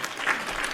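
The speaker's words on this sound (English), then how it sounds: "Let's give you an applause." A short burst of applause on a Christmas Day podcast, a brief dense patter of clapping hands, fairly faint and lasting under a second.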